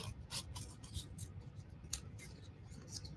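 Scissors snip through paper in a quick series of crisp, close cuts with irregular spacing, set against a quiet room with no talking.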